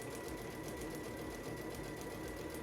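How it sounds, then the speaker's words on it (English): A sewing machine stitches panel two of a lattice flower quilt block, its steady rapid needle chatter running continuously without a break and sitting close and even throughout. "now I'm sewing on line number 2"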